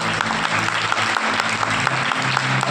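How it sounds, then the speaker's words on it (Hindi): A church congregation claps for God during a sermon, a loud, dense burst of applause with a low hum of voices and tones running beneath it throughout. "उस परमेश्वर के लिए एक ताली बजाओ"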